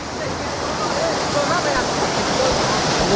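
Thác Mây waterfall at Phia Dầu in Hà Giang roars as a continuous loud rush of falling water and spray, with wind buffeting the microphone and faint voices in the background.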